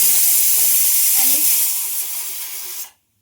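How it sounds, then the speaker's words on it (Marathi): A loud, steady hiss of steam venting from a pressure cooker cooking rice, close up, fading slightly before cutting off abruptly near the end. "इकडे झालाय आपला कुकर कुकरला भात लावलाय"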